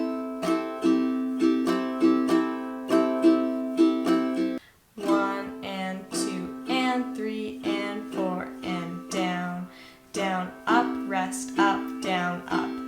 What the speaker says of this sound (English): So this song uses a simple down, down, up, down, up strumming pattern.